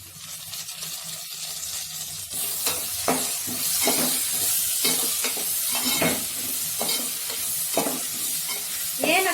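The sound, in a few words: onions and curry leaves frying and being stirred in a pan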